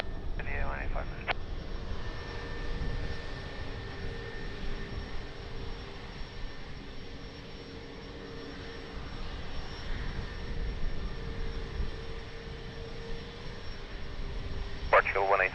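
An airliner's engines hum and roar steadily at Lisbon Airport before takeoff, a distant continuous drone with a faint tone, while radio voices talk over it.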